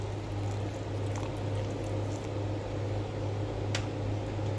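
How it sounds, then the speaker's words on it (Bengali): Liquid milk being poured into cold coffee, a steady, continuous close pour with a low hum underneath, lasting several seconds with no talking. "আর দিয়ে দিচ্ছি একটু লিকুইড দুধ।"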